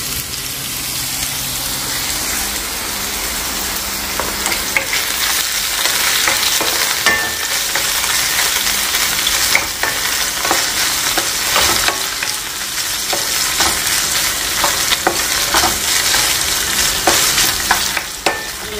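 Food fries and heats in gravy in a pan, giving a loud, continuous sizzle with bubbling and occasional stirring scrapes, close up and steady throughout without speech.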